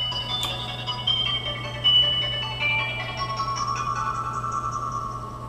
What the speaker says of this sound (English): that's my boyfriend blowing up my phone